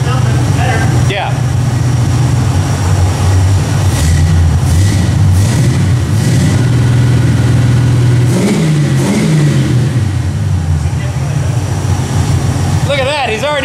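The 304 V8 in a 1979 AMC AMX, fitted with new headers, revs hard on a dyno. The engine roars loud and close, rising and falling over several pulls, and people talk under the noise.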